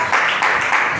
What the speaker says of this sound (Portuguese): palmas bem alegres